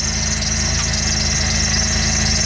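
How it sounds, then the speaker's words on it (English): A Pontiac Grand Am engine idles steadily after a fuel filter change, with a loud, even hum and a constant high whine or squeal over it, close and uninterrupted. "Now the vehicle is running."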